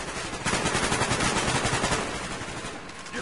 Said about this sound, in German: Permanent wird hier auf einen geschossen.